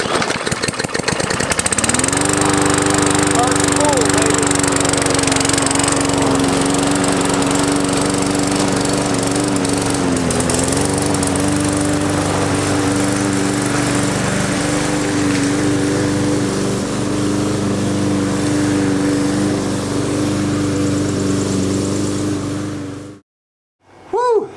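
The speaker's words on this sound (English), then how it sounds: "we got the free lawnmower running for free" An MTD push lawn mower with a freshly cleaned carburetor starts after about two seconds, then runs at a steady, loud, droning idle for roughly twenty seconds before cutting off abruptly.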